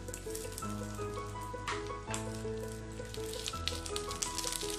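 Sliced onion sizzles steadily in a hot pan for a Kerala-style egg roast, a continuous crackling fry sitting under a soft melodic music bed with no talking.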